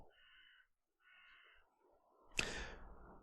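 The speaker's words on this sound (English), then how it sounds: "I don't know if you heard that crow cawing back at me there." Two drawn-out crow caws sound faintly at a distance, then a sudden loud burst of noise cuts in.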